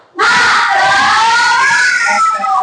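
A class of children shouting together loudly and continuously for the 'tepuk semangat' spirit clap, a dense, close burst of young voices with no distinct clapping standing out.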